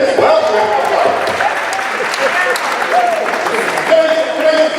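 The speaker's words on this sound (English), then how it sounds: "Everybody give Dennis Welsh a round of applause." Applause from students at a high school assembly, a loud, continuous wash of clapping across the gym with scattered voices and shouts mixed in.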